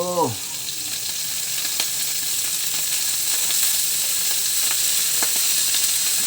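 Grasshoppers fry in hot cooking oil, a loud, steady close-up sizzle with crackling pops scattered throughout, opening with a brief whistling tone.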